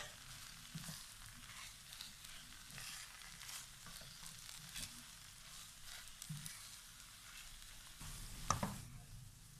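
Samosa filling of potato and chicken sizzles softly in a pan while ground chilies are stirred through, with faint scraping and occasional knocks over a quiet, steady fry.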